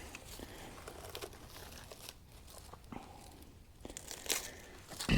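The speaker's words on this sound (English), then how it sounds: "So we'll unwrap all the plastic off of it." Plastic wrapping being pulled off a new Green Stove Hori 5 pellet stove: quiet, irregular crinkling and tearing with sharp crackly bursts, close by and growing louder toward the end, with no talking.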